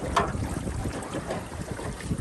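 Strong wind buffets the microphone on a small fishing boat at a reservoir, a rough continuous roar with low rumbling gusts and no voices.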